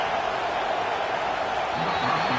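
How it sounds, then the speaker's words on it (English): Stadium crowd in the College Football 25 video game at an Oregon at UCLA game: a dense, steady roar of many voices fills the space, loud and continuous throughout. "This crowd bringing the energy and noise early."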